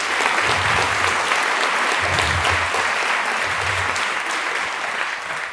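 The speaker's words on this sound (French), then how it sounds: "on peut applaudir la dernière ligne" The audience at a Union Musique Saint-Quirin band concert claps loudly for the musicians. The dense applause is sustained throughout, with faint low pulses underneath, and it eases a little toward the end.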